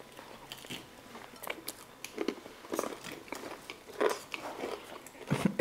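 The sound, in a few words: biting and chewing crispy fried chicken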